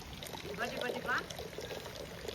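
Water trickles faintly from a garden hose wrapped in bamboo, a soft, steady dribble under a person talking.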